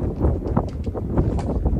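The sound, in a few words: wind blowing on a tennis court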